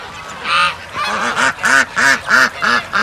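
A series of repeated honking calls from goslings and ducklings, close by and loud, arriving in an irregular rhythm of short bursts.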